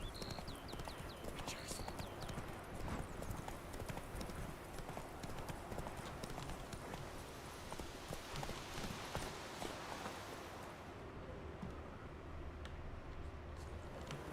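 The horse Roach from a Witcher video game gallops with steady, rapid clip-clop hoofbeats close by, continuing throughout, with a brief whinny and ambient game sound underneath.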